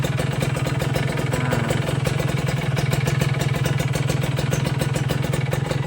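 A motorcycle engine idles steadily and close by, with a constant low throb and a faint rhythmic clatter. No speech or other sounds are heard over it.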